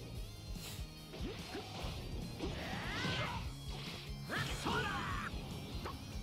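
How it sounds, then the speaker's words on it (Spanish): A bridge smashed apart in the fighting game Dragon Ball: Sparking Zero, heavy crashing impacts and thwacks with whooshing debris, fairly quiet overall, several hits landing in quick succession. "¡El puente lo han roto!"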